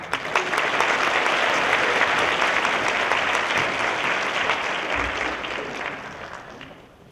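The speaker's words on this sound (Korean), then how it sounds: "여러분들 뜨거운 박수 부탁드리겠습니다" A seminar audience applauds a lecturer as he comes forward, the clapping dense and sustained for several seconds before gradually tapering off toward the end.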